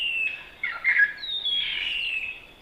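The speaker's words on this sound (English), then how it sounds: "sometimes they will go over the top of the net to get to the bird call" A recorded bird call played beside a mist net in native forest: a high, squawking call rising and falling over about two and a half seconds, moderately loud and fairly close, with faint background.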